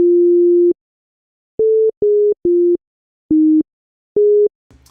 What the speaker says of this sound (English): which is just going to play us a sine wave